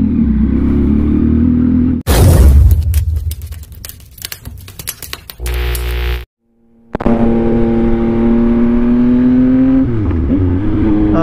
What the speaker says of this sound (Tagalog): Sobrang lakas ng pipe na ito.